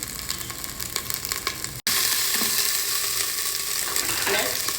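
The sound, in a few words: mustard seeds, cumin, ginger and green chilli sizzling in oil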